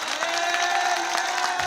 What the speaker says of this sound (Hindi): एक बार जोर से ताली हो जाए सिर्फ यीशु के लिए